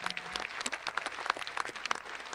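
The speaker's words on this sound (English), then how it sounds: "I'll convey your applause to him." Applause from a commencement crowd at a Seattle University graduate ceremony: a moderately faint, steady patter of many hands with scattered sharper claps standing out, lasting the whole stretch.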